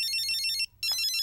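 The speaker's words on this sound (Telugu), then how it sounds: "ఆయనకు ఫోన్ కలుపు" A phone ringtone chirps in two short bursts separated by a brief pause, heard as a call is placed during a scene in a Telugu police drama, clear and close with no talk.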